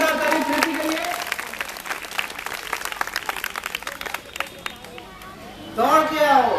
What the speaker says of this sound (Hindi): जोरदार ताली प्रीति के लिए।